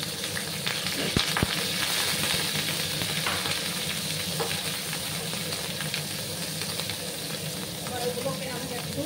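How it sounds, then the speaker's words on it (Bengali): Dried loitta fish frying in a pan, a loud continuous close sizzle with a few sharp metallic taps early on and no talk. "এবার এগুলোকে আমি একটু ভেজে নেব।"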